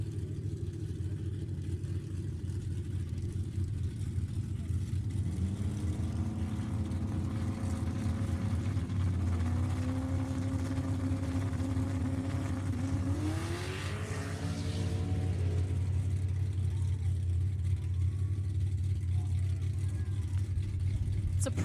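Drag cars, among them a 2013 Mustang, run an eighth-mile heads-up race at a raceway, their engines a steady distant roar with a rising, sweeping whine as they accelerate down the strip, set against constant crowd and track noise.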